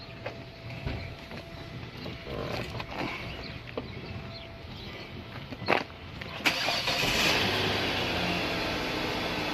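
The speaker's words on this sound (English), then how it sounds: "Let's try firing it up. Let's see if we got 6 cylinders back." A 2005–2009 Hyundai Tucson V6 cranks and fires after intake manifold work, a brief starter whir and catch followed by a steady, smooth idle.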